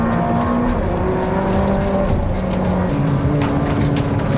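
Exotic car racing hard while trying to overtake another car, loud and close throughout, with steady engine roar, rising and falling revving tones and continuous road and tire noise, no talking.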